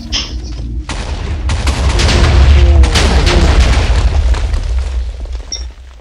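An airplane is blown up in a loud, sustained explosion that starts with a sharp burst and keeps rumbling for several seconds before dying away.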